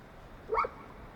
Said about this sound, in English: getting razzed by the dog a little bit.